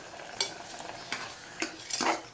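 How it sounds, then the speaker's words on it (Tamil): A few scraping stirs as rice is added to a boiling pot for mutton pulao, at steady intervals, with a faint bubbling hiss underneath; no voices. "இப்போ அரிசியை போட்டுருவோம். அரிசியை போட்டு ஒரு கிண்டு."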